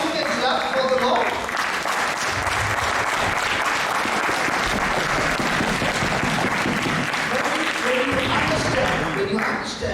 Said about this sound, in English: That's all you can clap for the Lord.